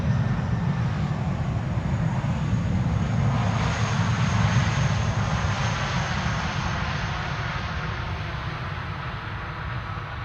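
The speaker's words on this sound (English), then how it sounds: "Sadly, an idle reverse landing, as so many have been" A cargo airliner lands at Schiphol Airport using idle reverse thrust, giving a continuous, loud, broad jet roar that holds steady and fades slightly toward the end, with no voices.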